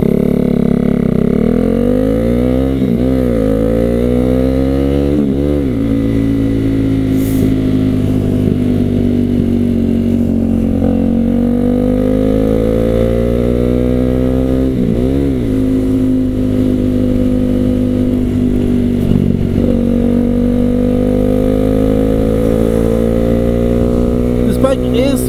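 A KTM Duke 390 motorcycle engine runs steadily while riding, a loud continuous drone whose pitch sweeps up and down with throttle and gear changes, with a rider talking over it.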